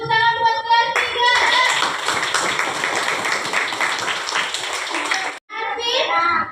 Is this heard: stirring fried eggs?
no